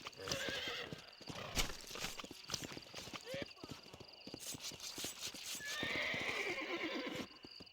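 A horse neighs and whinnies in Red Dead Redemption, with clip-clop hoofbeats and scattered sharp hits, fairly loud and busy throughout.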